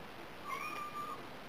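A timid rescue cat gives a single drawn-out meow, faint and somewhat distant, rising then gently falling over about half a second in an otherwise quiet room.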